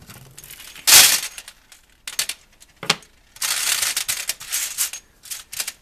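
Brass .38 Special cartridge cases shaken in a container, bright metallic clattering and jingling in several loud bursts with short pauses between.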